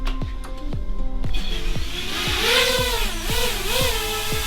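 A freshly built FPV drone from a kit spins its motors up and lifts off, its loud close whine rising and bending in pitch as the throttle shifts, with no voices.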